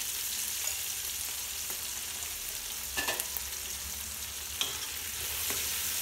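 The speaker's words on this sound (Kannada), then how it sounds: "ಚೆನ್ನಾಗಿ ಎಲ್ಲ ಫ್ರೈ ಆಗಬೇಕು" Onions, tomato and masala with turmeric frying in a pan for a country chicken biryani, a continuous close sizzle with occasional sharp scrapes and clinks from stirring.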